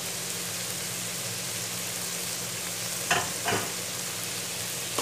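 Sliced cabbage and capsicum fry lightly in a pan for Chinese fried rice, a loud, steady close sizzle throughout, broken near the middle by two brief stirring scrapes, with no talking.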